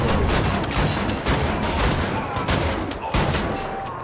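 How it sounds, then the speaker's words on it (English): Dual-wielded shotguns firing in the shooter Wolfenstein: The New Order, a dense run of loud, close blasts with heavy low rumble, roughly one every second, over faint game noise. "I think now's the time for a dual-wield shotgun"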